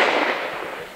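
A single sharp gunshot fired by hunters in celebration of a mountain-raising festivity in Josefov rings out loud and then decays into a rolling outdoor echo.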